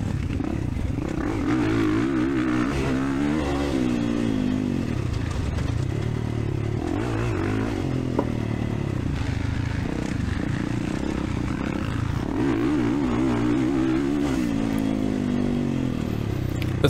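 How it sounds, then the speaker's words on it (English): 450 motocross dirt bike ridden on a track, a loud close engine roar that rises and falls with throttle and gear changes, mostly second and third gear, running continuously. "This track is so fun on the 450, just kind of second and third gear and just let the bike eat"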